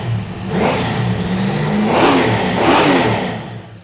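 A car engine with a heavy cam fires up and revs hard several times, deep and throaty up close, the roar rising and falling with each push of the throttle.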